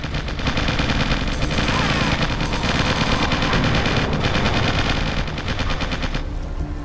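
Dense, continuous automatic gunfire and rapid shots from a battle in the real-time strategy game Original War, loud and unbroken for about seven seconds with sharper bursts throughout.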